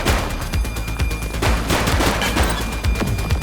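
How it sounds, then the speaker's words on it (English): Rapid bursts of gunfire crack out in The Precinct, a police video game, dense overlapping shots in a loud, fast, continuous volley. "He's shooting!"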